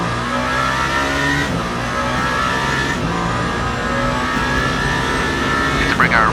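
A race car in Le Mans Ultimate revs hard and steadily while accelerating out of a slow left-hand corner in second gear, with the engine note loud and close, rising through a gearshift partway and continuing to climb.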